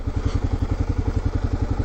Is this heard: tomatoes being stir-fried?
no